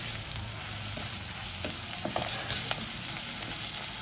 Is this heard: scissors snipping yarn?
no